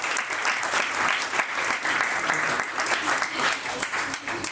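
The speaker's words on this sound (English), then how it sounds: "You could make a big round of applause for your CEO." An audience claps in a dense, sustained round of applause at an Alliance française event, loud and even throughout.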